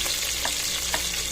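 Small Filipino onions stirred and frying in a pan, a loud, continuous close-up sizzle with faint scraping of the spoon through it.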